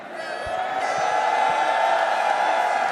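A large crowd at a 2XKO fighting game tournament at Evo cheers and whoops steadily and loudly, a dense roar that builds and holds, with a few thuds underneath.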